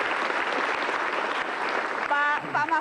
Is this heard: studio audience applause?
yes